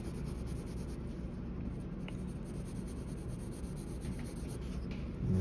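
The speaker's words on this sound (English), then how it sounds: "Sketch it like this." Pencil sketching on paper: continuous soft scratchy rubbing strokes, close and fairly quiet, steady throughout with a slightly louder stroke at the end, no talk.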